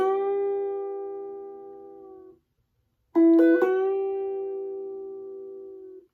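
Three guitar notes from a song ring out alone: one long plucked note fades, then after a short silence two quick plucks with a bend follow and sustain, decaying gradually.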